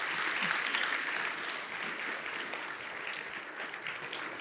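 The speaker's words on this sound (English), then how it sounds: "Please give a round of applause." An audience at a stakeholder symposium's opening session gives steady, dense applause, many hands clapping evenly and fairly close throughout, with no talk over it.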